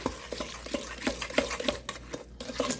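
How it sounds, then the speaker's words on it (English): A spoon or spatula stirs an egg into thick homemade blondie batter in a bowl, giving close, steady scraping and tapping strokes in an irregular rhythm with no voices. "Mix this together."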